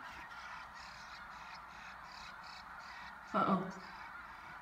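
A stuck bird dangling upside down lets out a brief, loud honking scream near the end, close by, over steady background noise, with a short spoken exclamation just before it.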